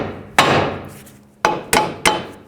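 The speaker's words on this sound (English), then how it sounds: "Take a hammer right here on the knuckle," A hammer strikes the steering knuckle of a 2005-2009 Chevy Equinox to free the tie rod end: four loud, close metallic blows, one then a pause, then three in quick succession, each ringing briefly.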